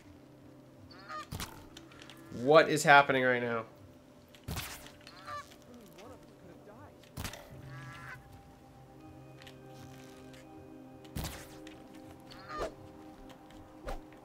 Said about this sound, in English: It's an Immortal Duck.